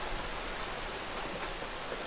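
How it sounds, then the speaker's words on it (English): Heavy rain pours down in South Florida, a dense, even hiss of water filling the clip without pause at a fairly quiet level. "But yeah, gosh, it's raining so hard."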